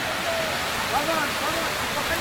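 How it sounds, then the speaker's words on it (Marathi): A monsoon stream flows along a misty hillside trail at Naneghat in the Sahyadri hills, a steady close rush of water with faint bird chirps over it. "एवढा छान पाणी वाहते."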